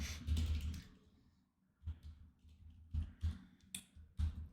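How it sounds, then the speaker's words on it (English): Sparse, scattered keystrokes on a computer keyboard, a few separate close clicks and taps with quiet pauses between them. "I'm typing like Trump right now."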